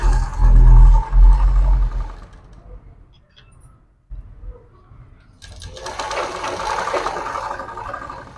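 A sewing machine runs close by in a short loud burst while a half saree neck is stitched, then goes quiet, and a second softer whirring run follows. No one talks.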